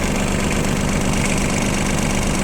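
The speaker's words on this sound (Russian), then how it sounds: "Чуть-чуть подпрогретый мотор. Потому что, естественно, глушить его не вариант на улице." A slightly warmed ISEKI SIAL TF223 mini tractor engine idles outdoors in the cold with a very short exhaust, a steady, loud, continuous rumble with no speech over it.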